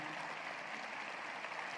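Audience applause for student athletes at a university State of the University address, a steady, continuous clapping heard from a distance throughout.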